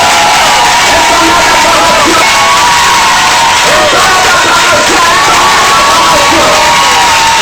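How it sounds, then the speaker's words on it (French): A packed church congregation cheers, shouts and whoops in acclaim during a Congolese-Ivorian prophetic service, a loud, continuous roar of many voices filling the room without a break. "J'ai dit un tonnerre d'acclamation."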